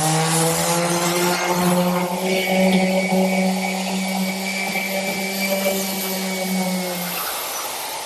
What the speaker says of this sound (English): Now the next step of the process is done with the random orbit sander.